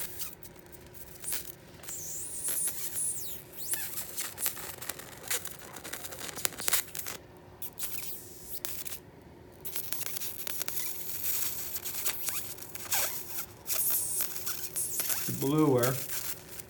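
A high voltage closed loop circuit arcs to earth ground, giving a continuous harsh crackling and hissing buzz with sharp tearing bursts and a rising whine near the end, fairly close and steady throughout.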